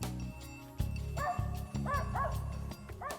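Squirrel-hunting dogs bark outdoors in the snow, giving several quick, overlapping yips and howls at moderate distance, with brief gaps between the bursts.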